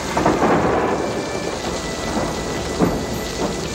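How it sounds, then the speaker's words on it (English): A cartoon rainstorm with thunder: dense, loud rain hissing steadily on surfaces, with deep rolling thunder swelling underneath, and no voices. "I think our rainstorm is about to blow over."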